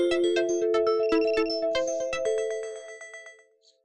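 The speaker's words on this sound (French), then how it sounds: "On a une sonnerie. Une belle sonnerie qui ressemble à une sonnerie de téléphone pour nous dire qu'il y a des problèmes de connexion." A TikTok live stream plays a melodic, phone-like ringtone to signal a connection problem. The bright, chiming rhythmic tones are clear and close, then the tune thins out and fades to silence.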